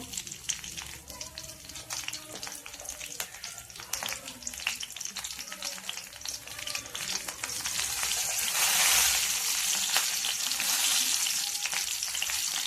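Green chillies and garlic, added with fresh ginger, sauté in a hot pan with a dense, steady sizzle that swells louder near the end, while occasional stirring scrapes and faint voices sit underneath.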